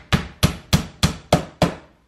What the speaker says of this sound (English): Going old school with this hammer.